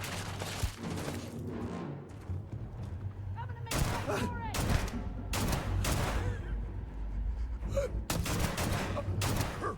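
Gunfire in the Starfield video game: several sharp shots and bursts scattered through the clip over a steady game background hum, fairly faint overall.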